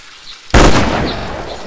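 A single loud gunshot in the Carnivores hunting game, an abrupt blast that rings out and slowly decays, with nothing else around it.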